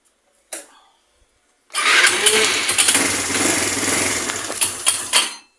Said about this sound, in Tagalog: i-start ko yung makina